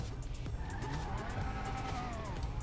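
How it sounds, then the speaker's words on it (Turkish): Car engine hum with drawn-out tire squeals and skidding in the GTA 5 video game, sustained and fairly faint with no talk. "Yarış araba sesi gibi gelmiş."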